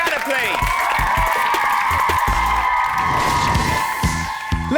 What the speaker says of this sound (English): Big round of applause for Rihanna, please.